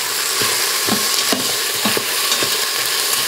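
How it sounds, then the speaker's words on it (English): Minced garlic and onions sauteing in a pan for corned beef hash, a steady close sizzle with scattered soft stirring scrapes and taps, no voices. "Mix that around here. We'll let this saute for a bit."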